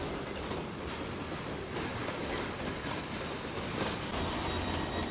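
A Talgo train rated for 200 km/h runs along the track, heard as a steady rumbling roar with faint rhythmic wheel clatter and a rising hiss toward the end, moderately loud and continuous.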